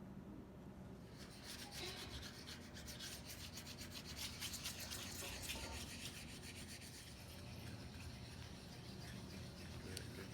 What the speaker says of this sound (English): if I just need it darker, I just rub it more and it will get darker